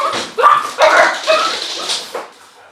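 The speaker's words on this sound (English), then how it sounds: "The neighbor's dog started barking." A neighbor's dog barking, a few close, sharp barks mixed with whiny yips over just under three seconds, with no talk.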